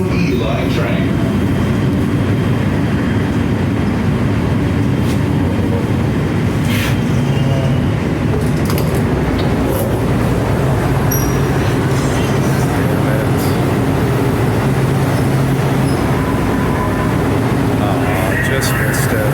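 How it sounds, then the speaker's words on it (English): LA Metro E line train rumbling steadily throughout, a dense continuous low roar of a rail car in motion, loud and close, with faint intermittent voices in the background. "This is the Metro E line train."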